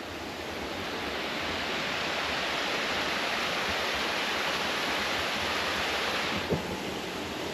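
A waterfall pours in a rainforest, a steady broadband rushing roar heard from nearby, even and unbroken, with one faint thump near the end.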